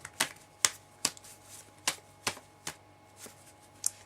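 Tarot cards being shuffled during a reading: a series of sharp, crisp riffling snaps at irregular intervals, close and fairly loud, with no talk over them.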